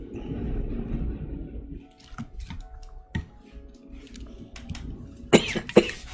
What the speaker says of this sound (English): I have no idea why I'm coughing so much.